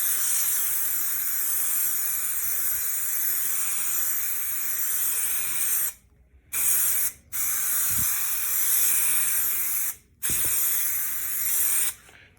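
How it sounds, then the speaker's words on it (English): Spray adhesive hisses steadily onto the headliner of a Honda Ballade EG car in long, close bursts, broken by a few short pauses between passes. "start by applying a few coats to the headliner itself"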